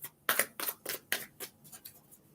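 A Psychic Tarot card deck is shuffled in a series of quick, crisp riffling bursts, about eight in a row that gradually soften, close by in a quiet room.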